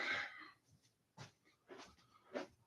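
A pitbull gives four short, breathy barks or huffs, spaced roughly half a second apart, fairly quiet and close.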